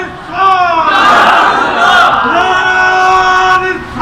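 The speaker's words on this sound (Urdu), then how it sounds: "زور سے لگائیے نعرہ" A crowd at a religious gathering loudly shouts a religious slogan in unison, a strong sustained roar of many voices lasting several seconds, filling the space with only brief dips between the calls.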